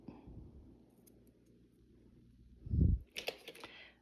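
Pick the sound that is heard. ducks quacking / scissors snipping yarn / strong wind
scissors snipping yarn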